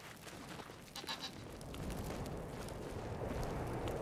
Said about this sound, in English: So there's goats.